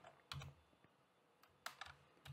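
Computer keyboard keys tapped for shortcuts while modeling in Blender, a few quick clustered clicks separated by brief pauses, faint and close, with no talking over them.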